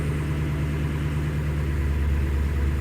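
A 2003 Ford 6.0 Powerstroke diesel engine that is low on power, held at full throttle, making a steady, even low drone throughout with no talking.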